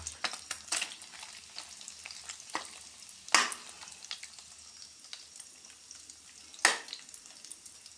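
Dried fish (tuyo) frying in a pan at breakfast, giving a continuous close sizzle dotted with sharp crackles and two louder pops.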